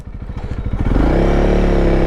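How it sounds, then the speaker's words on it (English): A Honda CRF300L single-cylinder 286cc dual-purpose motorcycle engine chugs in rapid, even pulses, then revs up into a loud, steady drone close to the listener. "This engine is a single cylinder 286cc engine, pumping out 26 brake horsepower"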